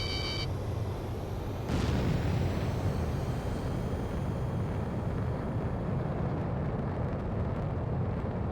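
Missiles burst in an Ace Combat 7 aerial battle: a sharp blast near the start swells into a loud, sustained roar and rumble, fading slowly over several seconds with no talk.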